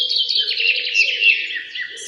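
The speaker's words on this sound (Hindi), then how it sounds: "का चमकता हुआ कबूतर उनकी आंखों के सामने उड़ रहा है।" A pigeon with glowing, silver-shimmering wings flies close by, giving a continuous run of bright chirping bird calls for about two seconds, steady and fairly loud with no talk.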